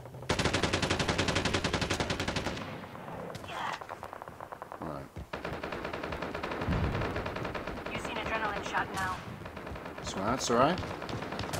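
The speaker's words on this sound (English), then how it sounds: "Damn it, I'm being shot at." Automatic weapons fire loudly in Call of Duty: Mobile gameplay, starting with a sustained burst and followed by scattered shots and impacts, while a player talks briefly over it.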